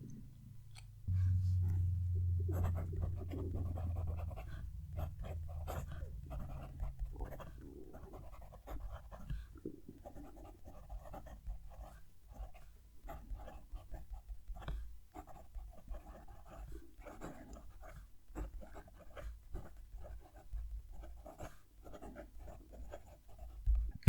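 A PenBBS 494 fountain pen scratches across paper in quick, soft strokes, faint and close, while a dog pants loudly nearby in the first few seconds.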